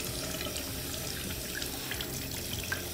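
A bathroom tap runs steadily while hair is being rinsed, giving a constant close rush of water with faint drips and splashes throughout and no talking.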